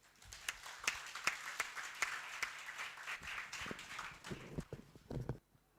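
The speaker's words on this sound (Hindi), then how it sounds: "जोरदार तालियां" Audience clapping at the close of a session at a study camp in Palitana, Gujarat, a dense wash of many hands with sharper individual claps, fading out near the end.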